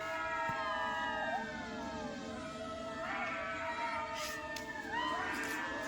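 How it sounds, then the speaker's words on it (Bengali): At night near a cremation ground in Chakdaha, a large pack of jackals howls together, rising and falling wails overlapping in a wavering chorus from some distance, steady and fairly loud throughout. "প্রচুর শিয়াল ডাকছে, প্রচুর শিয়াল।"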